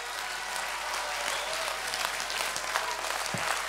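Steady applause from the audience at a Vendée Globe 2024 press conference honoring skipper Jean Le Cam, a dense wash of clapping that holds evenly loud for the whole stretch with no voices.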